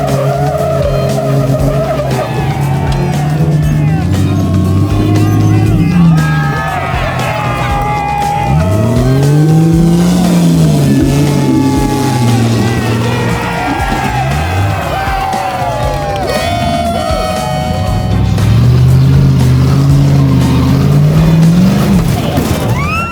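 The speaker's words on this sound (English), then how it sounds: "what a Jalopy is a really dilapidated, not very good car that barely runs" Dilapidated jalopy cars at the off-road Jalopy Games, engines revving and wailing up and down in repeated surges, with tires skidding and a crowd cheering and whooping in the background.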